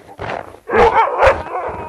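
A kennel dog on a snowy polar homestead lets out a few close, loud barks and yips in quick succession, with a short gap before two sharper bursts.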